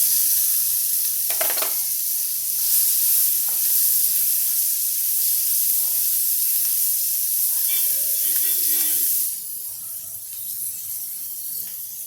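Chopped onion sizzles in a pan of cumin and asafoetida over low heat, a steady hiss broken by occasional scraping stirs, then the frying quietens toward the end.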